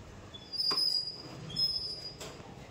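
A passing train rumbles along with thin, high metallic wheel squeals cutting in and out, heard at moderate distance with a couple of brief louder surges.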